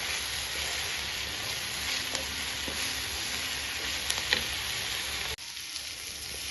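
Ginger paste and onions sautéing in a pan for a chickpea curry, a soft, continuous sizzle with occasional light spatters, close but fairly quiet, ending in a sudden drop to a lower hiss.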